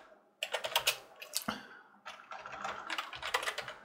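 Close, quick keystrokes on a computer keyboard during disk wiping on a ThinkCentre M93p PC, tapped in two bursts separated by a brief pause, with no talk.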